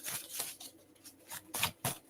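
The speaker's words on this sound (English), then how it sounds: "And then one more shuffle right there." A deck of tarot cards is shuffled in several quick riffling bursts, soft and close, with brief pauses between them.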